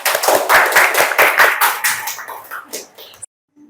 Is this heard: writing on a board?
no